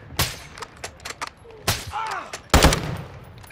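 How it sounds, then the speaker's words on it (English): Gunfire from shooting NPCs in Call of Duty DMZ, Modern Warfare II: a few loud single shots and bursts spaced irregularly, with a brief voice between them. "I'm just shooting NPCs."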